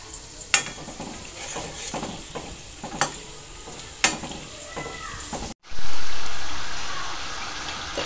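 Okra fritters (bhindi bhaji) dropping into hot oil, a steady close sizzle and bubbling with a few sharp clinks and stirring scrapes, then a sudden loud burst of frying that gradually eases.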